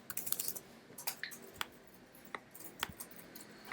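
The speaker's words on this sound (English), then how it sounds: "So I'm just typing, scroll up." Quick, light clicks from a computer keyboard, close and quiet, in irregular bursts with a faster flurry at the start and scattered single key presses after it, no voices.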